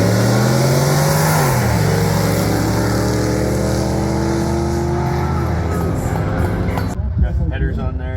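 A 1968 Ford F100 truck with a ported 460 V8, bigger valves, headers and an Edelbrock intake revs up loudly nearby, its engine note climbing then holding and dropping away; people talk over the running engine.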